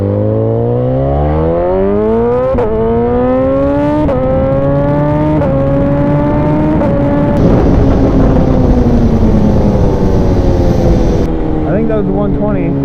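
A BMW S1000RR sport motorcycle accelerates hard at speed, its loud engine climbing in pitch through several gear shifts, with strong wind rush throughout and no talking.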